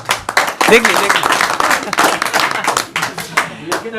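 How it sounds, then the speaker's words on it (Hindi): A village crowd at a post-election panchayat gathering bursts into clapping, a brisk, uneven patter of many hands, close and loud, with voices mixed in. "एक बार ताली बजाइए तो इनके लिए"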